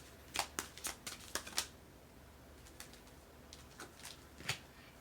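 A brand-new, very sticky deck of cards being shuffled, with a quick burst of crisp riffling flicks followed by softer, sparser card snaps, close and quiet with no talk.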